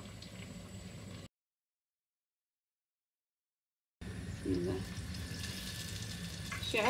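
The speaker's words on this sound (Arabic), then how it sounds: "كنحطوها في الزيت الاخرى اللي كثيره راه كتزيد تنفخ" Sfenj dough, Moroccan fried doughnuts, sizzling in hot oil, a steady near bubbling hiss that drops out completely for a few seconds and then returns louder with faint clinks.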